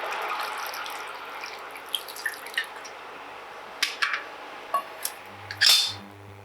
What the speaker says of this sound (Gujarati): અને ખાંડું 2 એટલું આપણે પાણી એડ કરશું